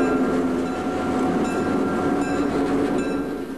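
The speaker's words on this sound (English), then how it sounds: "This is the train we're talking about." A high-speed Intercity Express (ICE) train on a 1993 Amtrak demonstration run rolls past with a steady, dense rumble and faint rail clatter, loud and continuous with no voices.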